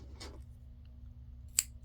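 Scissors cut scrapbooking paper in two short, close snips about a second apart, on a quiet background.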